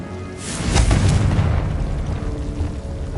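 Confringo spell explosion in Hogwarts Legacy, a heavy booming blast that swells quickly and rolls off into a long, rumbling decay, loud and alone without speech.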